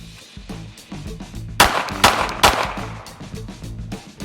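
Three pistol gunshots fired in a concealed carry drill, sharp loud cracks in quick succession, each trailing a brief echo over a quieter background.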